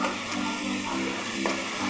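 Ginger, garlic and green chilli paste fries in salted oil while being stirred, a dense, close sizzle running continuously with soft spoon scrapes and no voices.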